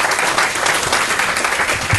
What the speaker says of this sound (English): It's always amazing how that gets applause from people.